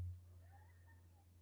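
A cat gives a single faint, thin meow in a quiet garage studio, with a low steady hum underneath.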